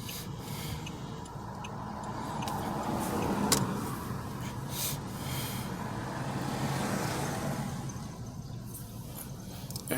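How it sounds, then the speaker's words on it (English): Road traffic rolls past near a parked car, a broad swelling rumble of vehicles that builds and fades over several seconds, with a few sharp clicks and knocks nearby. "I got traffic coming up"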